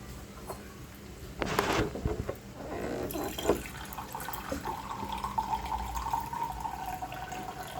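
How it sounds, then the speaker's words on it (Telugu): Water pours into a pan of homemade chicken curry, a burst of splashing and gurgling near the start that settles into a steady trickle and bubbling, heard up close with no talking. "కొంచెం వాటర్ వేద్దామండి."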